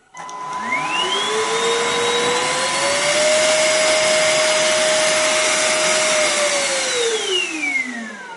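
A Kärcher FCV 3 cordless wet floor cleaner motor whirs up to a steady high-pitched whine, holds for several seconds, then winds down as it is switched off.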